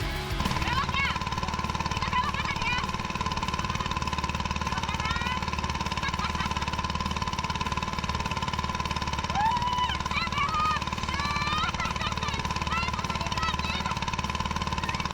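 A ketinting longtail racing motorboat on open water roars loudly at high revs, a harsh, rattling, steady drone with little letup, while a voice talks over the engine noise.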